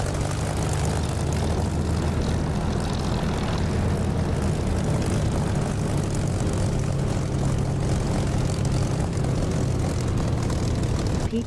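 An aircraft taxis off the runway in the DCS flight simulator, its engine and propeller droning in a loud, steady low roar that holds constant throughout.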